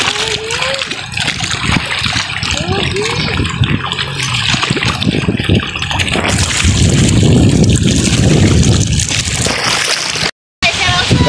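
Loud rushing water and crashing ocean waves at Buho Beach, Tabango, Leyte, with splashing and sloshing building into a heavy roar; people talk faintly in the background.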